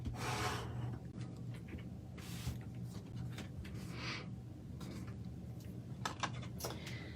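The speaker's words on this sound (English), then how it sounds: "it's good to burnish those score lines all the way around." A tool rubs along the score lines of a paper card folder, a quiet, dry scraping that repeats in several short strokes, up close with no talking.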